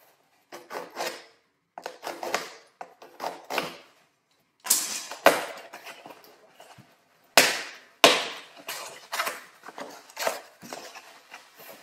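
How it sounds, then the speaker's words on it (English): A LengthMaster package being slit and torn open with a ruler, giving bursts of close scraping, crinkling and rubbing in short separated strokes, with pauses between them and no speech. "Use this ruler here to open it."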